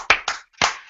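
Three sharp hand claps close by, two quick ones followed by a third after a short pause, each crisp and dry.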